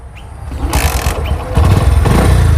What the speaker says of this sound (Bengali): কিক স্টার্টার দিয়ে কীভাবে বাইক স্টার্ট করবেন সেটা এখন আপনাদেরকে দেখাবো।